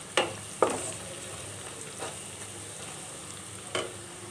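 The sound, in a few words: onion and garam masala frying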